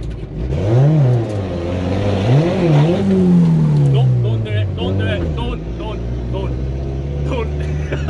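A car engine revs hard through a burnout just after a timing belt replacement, loud and close, its pitch swooping up and down in repeated surges before settling into a steady high drone, with voices talking over it.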